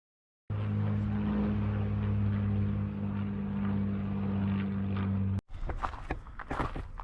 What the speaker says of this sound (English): one of them definitely looks like a Spitfire. The other one could be a Hurricane.